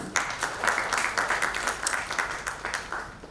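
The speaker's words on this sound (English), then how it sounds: "A round of applause, everyone." An audience at a startup panel discussion during a Dhaka tech conference claps in a steady round of applause, moderately loud with rhythmic pulses and some louder individual claps near the microphone.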